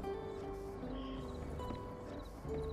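Horse hooves clip-clop in the video game My Time at Sandrock, a soft steady gait mixed with game music and ambience, fairly quiet throughout.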